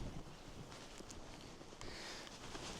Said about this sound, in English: it's always so windy